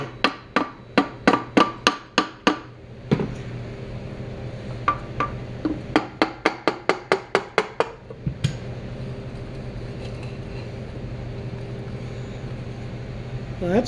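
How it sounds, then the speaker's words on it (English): Sharp metallic taps on a part being driven off the crankshaft of a 1956 Briggs & Stratton engine, in quick rhythmic bursts of about a dozen blows, then pauses and another run, with a low hum beneath. "let's see if we can tap this thing off now"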